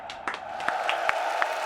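A large crowd at the FACEIT Major London 2018 Counter-Strike esports event applauds and cheers in a steady wash of claps and noise, with sharper claps standing out near the microphone.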